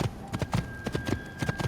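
Horse hooves clip-clop in steady rhythm as a mount moves across the ground in Assassin's Creed, even, moderately loud thuds with no talking over them.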